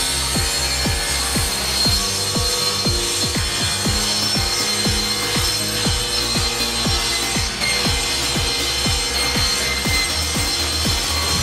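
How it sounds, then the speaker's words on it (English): A table saw cuts through pine wood, a loud continuous whine with a regular pulsing rhythm held steady throughout, close up with no voices. "I adjust my table saw to 2 feet and cut it."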